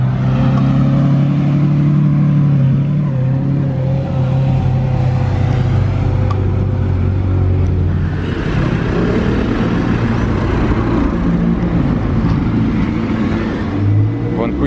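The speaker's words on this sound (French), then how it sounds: "c'est quoi ce combo là qui arrive? Aventador S rouge et la Corvette Camo derrière." A red Lamborghini Aventador S and a desert-camo Corvette drive past in a loud, close exhaust rumble that builds and changes pitch as they rev by, with people talking over the engines.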